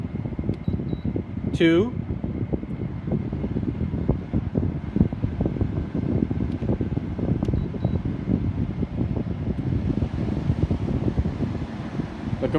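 LG LW8010ER window air conditioner fan blowing at low speed settings, a steady close rushing whoosh throughout, with a brief beep and a few clicks early on and a voice speaking briefly.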